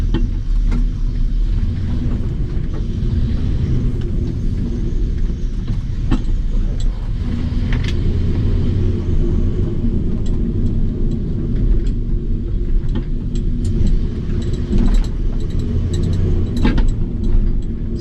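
A Lil Red Express truck driving, heard from inside as a loud, steady low engine and road rumble with occasional rattles and clicks throughout.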